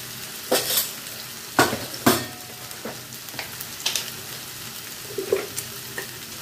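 Spice paste for a fish roe kaliya frying in a pan, soft sizzling broken by scattered scrapes and clinks of a spoon stirring against the metal, several sharp strokes then lighter taps, close and alone without talking.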